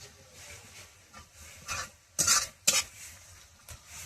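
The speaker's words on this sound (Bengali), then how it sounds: "খিচুড়ি নাড়াচাড়া দিয়ে নামিয়ে খালি গরম গরম" A ladle stirs khichuri in a pot with soft scraping and low sizzling, punctuated by two sharper metallic scrapes against the pot's side.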